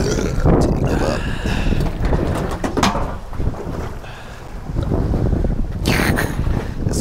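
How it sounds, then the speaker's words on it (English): Strong wind buffets the microphone on a lake while boating, a steady loud roar with gusty surges, a burst of hissing near the end and faint bird calls in the background. "This wind is not nice."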